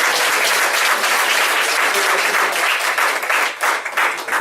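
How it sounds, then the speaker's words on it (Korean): An audience at a book concert breaks into loud, sustained applause that continues for several seconds and thins slightly near the end. "여러분 박수 한번."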